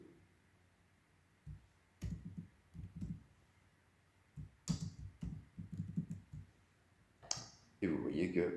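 Keys clicking in short irregular bursts on a computer keyboard while text goes into a PowerPoint slide, moderately close and fairly quiet against a low background hum, with a denser flurry of keystrokes near the end.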